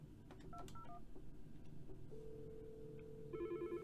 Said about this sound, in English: now it's ringing a phone that's right next to me and you can hear it